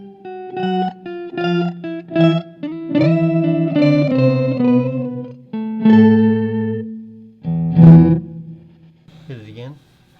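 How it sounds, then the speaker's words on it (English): A fuzz pedal set with both an octave-down and an octave-up voice, a guitar played through it in a run of separate, choppy notes and short held tones, ending in a wobbling, pitch-sweeping note. "So we're putting an octave down and an octave up."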